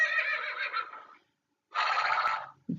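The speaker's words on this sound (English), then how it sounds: "And we'll listen to the horse." Two loud, close horse neighs on a farm, each roughly a second long with a short gap between them, followed by a brief low snort at the end.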